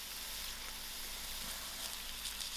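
Tomato puree added to cooked-down tomatoes in a pan for prawn biryani sizzles faintly and steadily while being mixed, a soft, continuous frying crackle with no voices.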